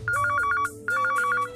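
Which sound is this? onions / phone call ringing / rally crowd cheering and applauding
phone call ringing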